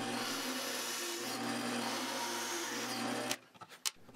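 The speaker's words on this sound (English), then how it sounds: "over at the drill press, I used a plug cutter to make a whole bunch of these little guys." A drill press with a plug cutter cutting wooden plugs: a steady, loud machine whir with a low hum runs for about three seconds, then cuts off, leaving a few scattered knocks and clatters.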